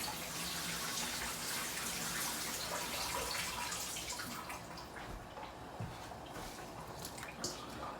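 Water poured out of a bowl of carrots during home canning: a steady, broadband splashing gush, loud and close for about five seconds, then easing into a thinner trickle with scattered drips. No one speaks over it.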